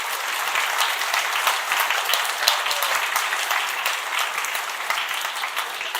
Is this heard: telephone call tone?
no